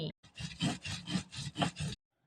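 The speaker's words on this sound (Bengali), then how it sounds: "এখানে আমি পুদিনার পাতা, ধইনার পাতা, সরিষা আর কাঁচামরিচ একসাথে বেটে নিচ্ছি" Mint leaves, coriander leaves, mustard and green chillies are ground together by hand for borhani, giving about seven rhythmic, close rasping strokes that stop abruptly.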